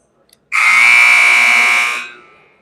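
A basketball arena buzzer horn at a girls varsity basketball game blares in one loud, sustained, steady tone for about a second and a half, then cuts off with a brief echoing tail.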